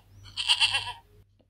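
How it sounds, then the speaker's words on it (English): A goat gives a single short, nasal bleat, close and clear, lasting under a second. "Shall we listen to what a goat sounds like?"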